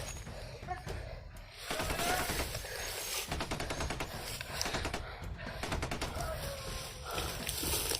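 Sniper or carbine gunfire in a shooting video game, with bursts of rapid mechanical shots and clattering effects repeating over several seconds, fairly faint and mixed with background game sounds.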